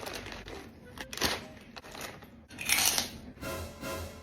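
Someone crunches loudly on a crispy spicy fried squid snack, with repeated close bites and crackles over a noisy room with background voices.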